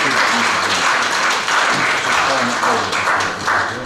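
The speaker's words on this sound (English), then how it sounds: "Let's give God a clap offering." A church congregation claps together after a sermon prompt, loud and fairly steady throughout, with voices mixed into the clapping.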